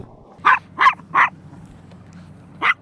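Four sharp barks from a dog in a supermarket car park, three in quick succession and then one more after a pause, fairly close and loud over a low engine-like hum.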